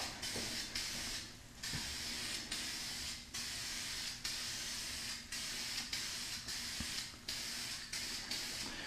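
Steady, close hissing of a spray paint rattle can, sprayed in repeated bursts with brief gaps between them, applying paint to a mirror.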